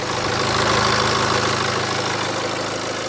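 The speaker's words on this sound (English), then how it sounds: "Now this is the N47 engine. This has been known for problems, and actually I can hear like a rattle off this thing" The N47 diesel engine of a 2013 Mini Cooper D idles steadily, a low continuous rumble with a faint ticking rattle pulsing through it, heard close with the hood down.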